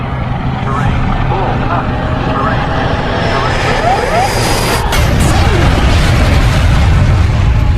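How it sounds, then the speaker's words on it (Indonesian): An airplane crashes into Mount Bromo in the Resident Evil: Afterlife film: a roaring aircraft drone leads into a loud booming impact partway through, with a voice narrating over it. "disitulah pesawatnya menabrak Gunung Bromo"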